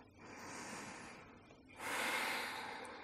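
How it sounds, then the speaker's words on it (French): Slow, deep Ujjayi breaths during a beginner yoga routine, heard close and alone: a long airy inhale followed by a louder, rushing exhale with a soft throaty hiss. "La respiration Ujjayi, lente et profonde."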